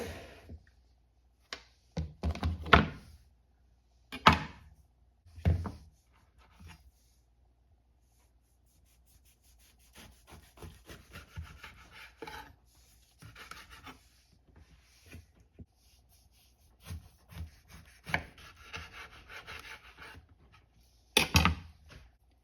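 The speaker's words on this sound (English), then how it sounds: "let's cut into the first lemon" A knife cuts into an old lemon with soft, scraping, rasping strokes, coming in separate near bursts with quiet gaps between them.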